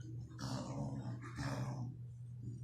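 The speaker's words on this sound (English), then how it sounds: "huffing and a puffing and a moaning and a groaning and barking at me" A dog huffs and growls in low, rough bursts, two groaning rumbles close by with a steady hum underneath.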